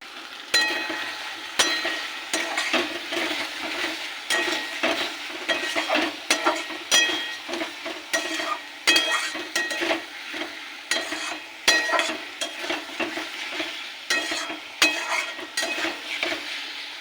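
A spatula scrapes and clatters steadily through a fish curry base of salt, turmeric, cumin, chilli and coriander powders sizzling in oil, with rhythmic metallic taps against the pan; no one speaks.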